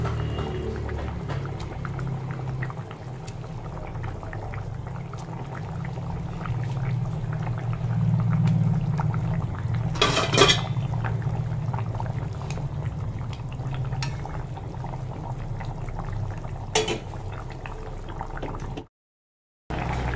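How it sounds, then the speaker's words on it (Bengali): Katla fish and pointed gourd curry bubbles at a steady boil in a pot, a continuous low simmering rumble with a few brief louder spurts, heard alone without talk. "ঝোলটা ফুটে গেছে, আবার মাছগুলো দিয়ে দেবো।"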